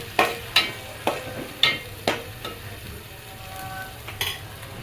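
A coriander paste mixture frying in oil for vada pav is stirred with a utensil. About six scraping strokes come in an even rhythm over a steady, close sizzle, and no one speaks.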